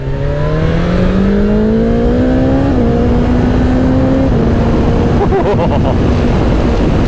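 A 2023 BMW S1000XR motorcycle's race bike engine revs loud and close, its pitch climbing in steps through the gears before easing off, with rough road and wind noise underneath.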